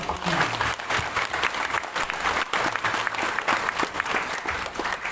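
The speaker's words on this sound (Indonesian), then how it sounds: "Maka diberikan aplaus man panitia." A church congregation at a Sunday service in Kebayoran Lama applauds its committee, a steady, loud burst of many hands clapping together across the whole stretch.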